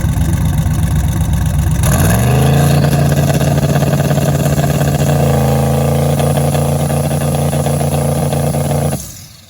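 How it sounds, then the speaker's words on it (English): Turbocharged drag car engine held on two-step launch control, rising sharply into a loud, sustained rev near the microphone with a steady buzzing drone, then cutting off abruptly near the end. "We're gonna do a little two-step check right now to see what the boost is gonna make with this"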